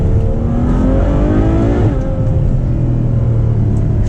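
A Ferrari 812 Superfast V12 revs hard through manual-mode gearshifts, a loud close engine note climbing in pitch, dropping sharply at a shift near the two-second mark, then pulling again with a deep rumble.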